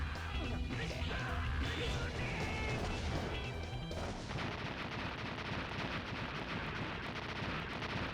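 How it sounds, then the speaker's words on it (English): A stock explosion sound effect in the Rockman EXE 6 video game: a loud, dense crashing burst with rumbling blasts sustained throughout, mixed with game music early on and no talk over it. "Is that a stock explosion sound I was just hearing?"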